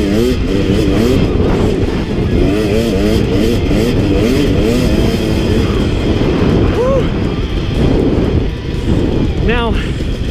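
A 2017 KTM two-stroke dirt bike, a 250 XC or 300 XC, is ridden hard through desert whoops. The engine note is close and loud, constantly rising and falling as the throttle opens and closes.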